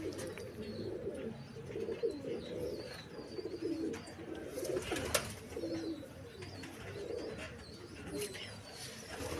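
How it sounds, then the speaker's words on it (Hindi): Topi bater pigeons coo in low, steady rolling murmurs throughout, several birds overlapping close by with a faint voice in the background. "ये टोपी बटेरे कबूतर हैं जी, बड़े अच्छे और बड़े"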